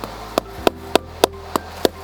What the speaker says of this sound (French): Donc je prends ma mèche et je la mets au niveau de la marque et avec un marteau,